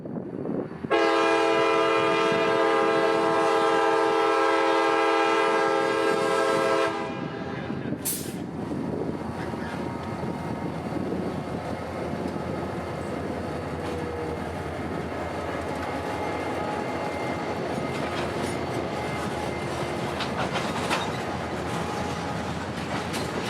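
A freight train yard job enters a rail yard at a grade crossing on the Tampa Terminal subdivision in Central Florida. It sounds a loud, sustained horn blast, then a steady rumble and clatter of rolling cars continues close by.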